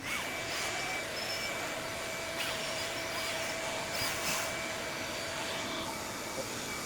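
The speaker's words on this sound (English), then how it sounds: "go ahead and turn on the vacuum" A vacuum cleaner runs steadily with a constant high-pitched whine and broad airy roar, close and unbroken, no talking.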